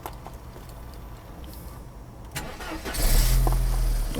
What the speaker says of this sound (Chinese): 大哥来做一个冷车发动